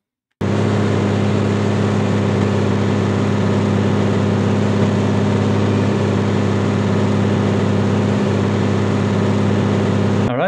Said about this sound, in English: Okay, so here's the car engine.